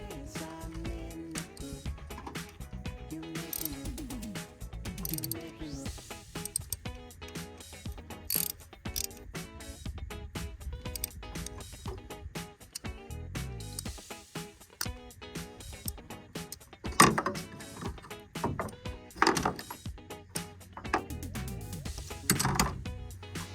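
Ratchet clicks and metallic mechanism sounds from a torque wrench tightening bolts to 8 foot-pounds on the timing chain cover of a 2010 Ford Fusion 3.5L V6, a busy stream of close, uneven clicking with sharper knocks throughout.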